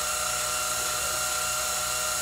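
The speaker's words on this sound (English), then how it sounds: "Reverse the drill and back out" A power drill runs continuously at a loud, steady high-pitched whine, held evenly for about two seconds with no pauses or change in speed.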